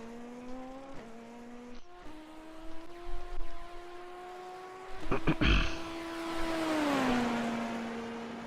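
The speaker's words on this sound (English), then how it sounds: "I love the blow-off valve sound." An F3 race car in a racing video game, its engine droning in steady harmonic tones that shift with gear changes, a sharp burst of blow-off valve hiss and chatter partway through, then the engine tone dropping.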